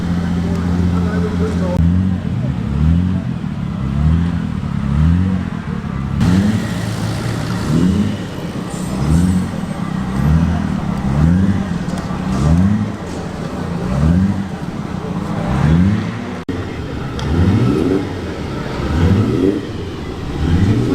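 A historic Delahaye racing car climbs the Prescott hillclimb, its engine revving hard through a repeated rising-and-falling rhythm of gear changes, loud and close, with voices talking over it.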